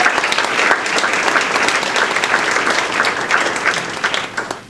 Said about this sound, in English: So if you could give them all a round of applause.